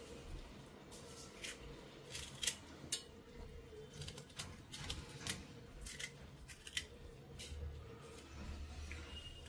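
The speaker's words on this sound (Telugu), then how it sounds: "సో మామిడికాయ నీట్గా తురిమేసుకుంటున్నాను." Raw green mango being grated by hand in a home kitchen, a faint, close series of quick rasping scrapes in an irregular rhythm that continues steadily for several seconds with no talk.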